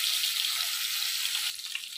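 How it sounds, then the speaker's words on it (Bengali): Chicken pieces fry in a pan with a steady, bright hiss of oil. The sizzle thins out slightly near the end. "চিকেনগুলোকে ভেজে নেব। একদিকটা ভাজা হয়ে গেলে আমি আরেক দিকটা উল্টে নেব।"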